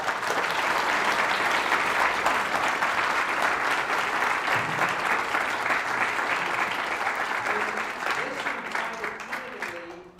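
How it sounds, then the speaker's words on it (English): An audience at a law school celebration honoring Chief Justice Tani G. Cantil-Sakauye claps steadily for about ten seconds. The dense, even applause tapers near the end as faint voices emerge. "Let's give the Chief Justice a round of applause."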